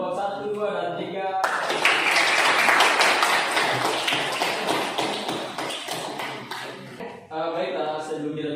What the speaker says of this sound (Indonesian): berikan aplaus kepada kelompok 1, 2, dan 3